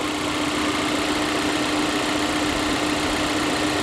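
A 2015 Volvo V60 T5 with a 2.0-litre turbocharged engine idles at about 1,000 rpm while not yet warmed up, after a breather box and oil separator replacement. It makes a steady, even hum close by, with no talking.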